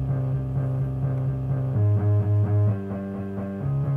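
An Omnisphere guitar-bass synth preset runs through a Cubase amp simulator, playing a loud, gritty low riff with rhythmic notes and a heavier sustained middle passage, no voices.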